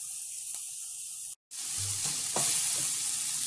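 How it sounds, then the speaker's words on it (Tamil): Quinoa boiling in a covered pot on a low flame gives a steady, close bubbling hiss, broken once by a brief silence and dotted with a few soft knocks. "கீன்வா கொதிக்க ஆரம்பிச்சிருக்கு"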